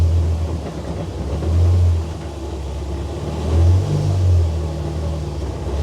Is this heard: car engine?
yes